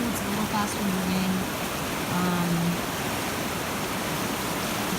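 Fast-moving, fairly deep water of Bear Creek rushing steadily as a dense, even wash that fills the whole span, with a few faint tonal sounds riding over it.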